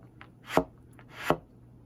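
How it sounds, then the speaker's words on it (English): Two short, low resonant tongue-ram bursts on a double-bell quarter-tone trumpet, no real pitch, each a quick percussive thump, spaced less than a second apart and alone. "with this effect, you get a short burst of resonance with no actual tone"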